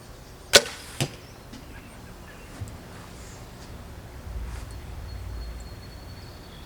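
A sharp twang of a Diamond Edge 320 compound bow set to 70 pounds releasing, followed a half second later by a thud of the arrow striking, then quiet outdoor ambience.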